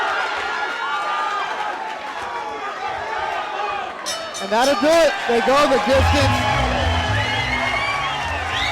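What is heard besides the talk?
boxing crowd cheering at end of fight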